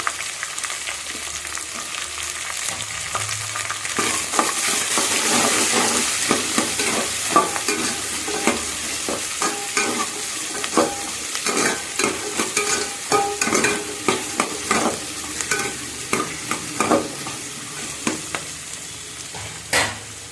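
Onion and garlic sauté in a pan as the base for coconut milk rice: a steady, close sizzle runs throughout, with frequent scraping stirs that grow busier and more rhythmic toward the end, and no talking.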